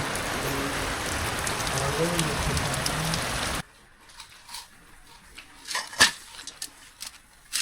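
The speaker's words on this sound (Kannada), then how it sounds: "ಜೋರಾಯ್ತು ಮಳೆ." Heavy rain pours in a dense, steady roar, then cuts off abruptly midway, leaving near-silence with a few scattered faint taps.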